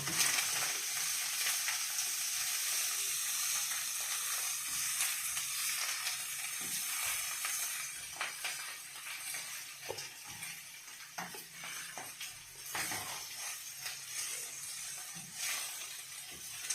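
Adobo ingredients sautéing in a pan give a steady, close frying sizzle with hiss and occasional stirring clatter and pops throughout.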